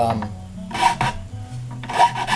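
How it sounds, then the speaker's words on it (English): A chainsaw file rasps against hickory in short repeated strokes while cutting bow nocks, each stroke a scratchy burst with brief pauses between, close up. "I'm going to go ahead and cut the nocks. I'm just using a chainsaw file"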